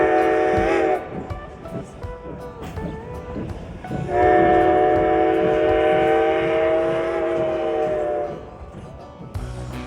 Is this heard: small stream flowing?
no